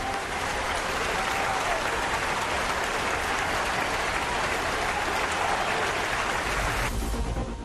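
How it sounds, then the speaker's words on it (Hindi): Thunderous applause fills a parliament chamber, a dense, loud, continuous roar of many hands clapping at once that holds steady for several seconds and then thins near the end. "दुनिया के सबसे समृद्ध लोकतंत्र के प्रतिनिधि का स्वागत तालियों की गड़गड़ाहट के साथ कर रही थी"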